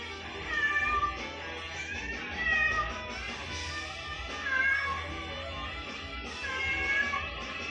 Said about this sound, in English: Never mind the cat that's howling.